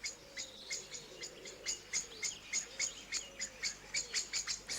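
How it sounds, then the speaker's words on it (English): Female blackbird giving repeated alarm calls before going to roost in a British garden, a steady run of sharp, high chinking notes at a fairly even rhythm, faint and somewhat distant, with insect-like chirping in the background and no talk. "It also often gives these alarm calls before going to roost."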